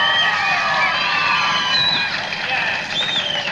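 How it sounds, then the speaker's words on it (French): Audience cheering and applause at a retro comedy show, a dense, loud crowd roar with shouts and whistles running steadily through the whole stretch. "nous vous demandons de l'applaudir très très très très fort"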